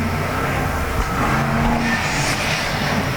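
Race cars roar on a dirt speedway during an autocross main event in Arizona, with a steady, loud engine drone and no pauses throughout.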